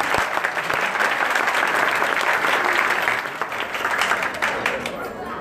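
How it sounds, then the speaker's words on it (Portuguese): Audience applause at a certificate ceremony for young apprentices, a dense, steady clapping from a crowd that holds loud for several seconds, then eases slightly while still carrying on. "Cadê o aplauso da menina,"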